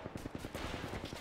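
Rapid automatic gunfire from the video game Apex Legends, a fast, even string of about a dozen shots, fairly faint and close-sounding.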